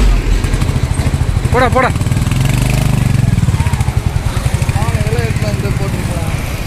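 Royal Enfield Bullet motorcycle engine running with a steady, loud thumping beat throughout, close by, with people talking and shouting over it.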